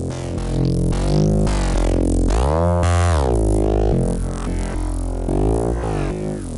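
Massive synth neuro bass patch with three stacked unison voices, a loud, thick growling bass with sweeping, wobbling pitch and filter movement, playing continuously for several seconds with no talking.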